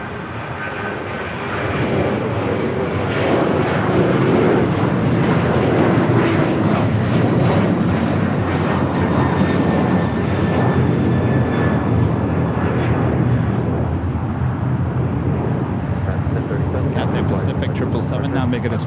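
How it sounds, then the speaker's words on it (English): An American Airlines Boeing 737-800 takes off at Los Angeles International Airport, a loud, sustained jet roar that builds and holds for most of the span, broadband and fairly close, with some talk mixed in. "Next takeoff, American Airlines Flight 1037 heading to Columbus, 737-800."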